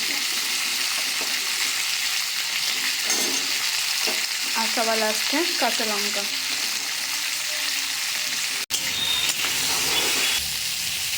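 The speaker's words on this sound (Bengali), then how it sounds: "এটা একটু ভাজা ভাজা হোক" Mixed vegetables such as carrot, beans and cauliflower fry in a pan with a continuous, fairly loud hissing sizzle, while a person speaks briefly in the middle.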